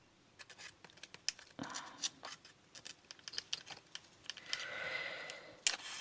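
Scissors snip repeatedly at a glassine bag, giving quick crisp clicks and papery crinkles at an irregular pace, close and fairly quiet, with a longer rustling crinkle toward the end.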